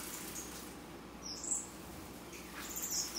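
Aviary birds giving a few faint, scattered chirps over a steady low background hum, with brief high tweets near the middle and end.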